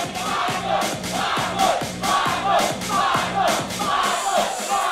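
A boxing crowd cheers and chants in loud, rhythmic bursts that build and fall, with shouting voices mixed into a dense wall of noise.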